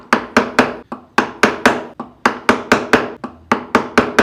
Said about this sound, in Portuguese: Eu estou conseguindo fazer com o formão pequeno